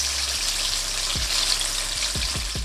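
Battered chicken pieces crackle and sizzle steadily in hot frying oil, a close, constant hiss with a few low thumps and bubbles underneath and no voices.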